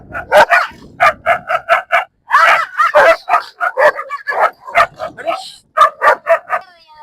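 Several dogs bark, yip and whimper in rapid bursts during a scuffle, loud and close, with a person's voice shouting among the barks.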